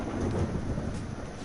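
Thunder in Persona 5 Royal: a faint, low rumble rolling under soft rain-like hiss for about a second and a half, quiet and distant with no talk over it.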